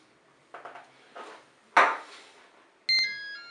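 A Cookeo multicooker gives a short electronic beep near the end, after a few scattered soft knocks and clatters of kitchen handling in a quiet room.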